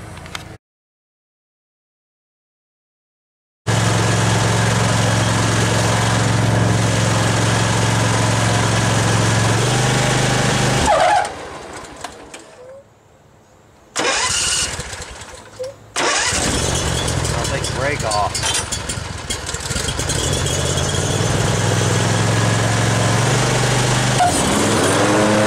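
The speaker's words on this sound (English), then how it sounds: "show you mowing a little bit with the grasshopper" Grasshopper riding lawn mower engine cranks and catches, then runs loud and steady through mowing, with a brief drop in revs and a short pause before roaring back up; voices can be heard faintly in places.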